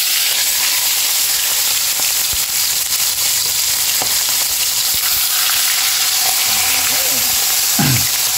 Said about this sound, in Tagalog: prito tayo mga kabayan